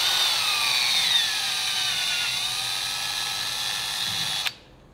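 A 2.2 mm drill bit bores out a hole during work on a turbocharged street engine, its steady high-pitched whine running close and loud for about four and a half seconds before stopping abruptly.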